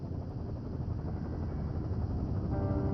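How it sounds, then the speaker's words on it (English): A helicopter in the video game Firewatch, a steady low rotor thump and engine rumble holding at a moderate distance for three seconds, with no one speaking. "There's the helicopter."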